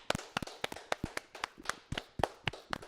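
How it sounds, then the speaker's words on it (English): Sparse, irregular hand claps at a religious congregation's service, a dozen or so sharp individual claps from a few people, fairly faint and without talk. "Let's clap it up."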